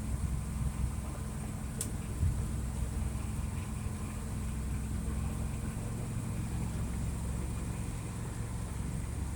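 A 1995 GMC Topkick 2,450-gallon tanker truck rolls along a bumpy county road, giving a steady low engine drone and road rumble with broadband cab noise and no talk.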